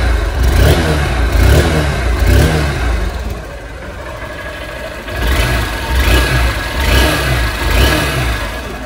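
A Honda Unicorn 160 ABS motorcycle engine idles with a steady thump, then revs up and down in repeated bursts, loud and close.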